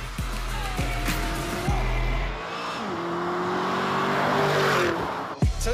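A Lamborghini Urus drives hard, its engine note climbing and falling through several gear changes with brief shift pauses, loud and close, ending with a couple of sharp thumps.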